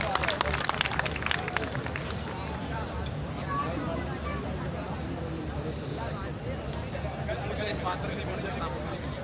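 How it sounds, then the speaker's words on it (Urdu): An audience claps at a poetry recital (mushaira) in Karachi, a dense, continuous patter of applause with crowd murmur, heard somewhat distant and fairly quiet. "زوردار تالیاں ہونی چاہیے"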